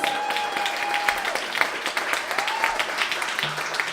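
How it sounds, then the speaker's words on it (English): Audience applause for the performers after a concert blending Hindustani music and beatbox, a dense, even wash of clapping from a crowd, heard alone at a moderate distance. "Let's have one more round of applause for the performers,"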